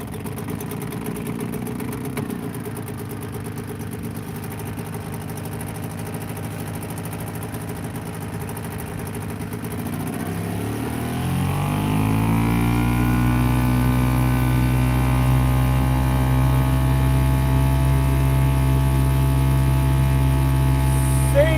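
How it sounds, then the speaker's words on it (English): A boat engine fitted with a new carburettor starts up and settles into a steady, loud idle with a deep low hum. It runs without a break for about ten seconds after a quieter, rumbling stretch. "We are going to sail home with this new carburettor."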